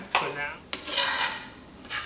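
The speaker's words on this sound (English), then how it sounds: "I'm at the point where I'm kind of dragging the knife over the cutting board in order to create kind of a garlicky paste" Knife blade dragged and scraped across a cutting board to mash garlic into a paste for Caesar salad, giving close, gritty rubbing strokes with a sharp tap between them and no talk.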